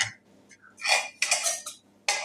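Plates and cutlery clink in a home kitchen as rice is served for lunch, a few bright scraping and clattering bursts close by with short pauses between.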